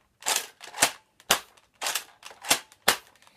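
A Nerf Terminator blaster fires six sharp, close cracks in an uneven rhythm, each shot trailed by a brief mechanical rattle, with no voices.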